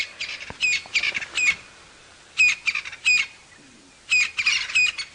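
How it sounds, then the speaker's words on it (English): A crested francolin calls at sunrise in the bush on a safari drive, giving loud, raspy, repeated squawking phrases in three separate bursts with short quiet gaps between them. "Crested Franklin calling."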